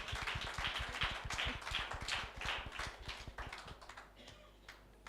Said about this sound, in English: So can we give him a premium applause?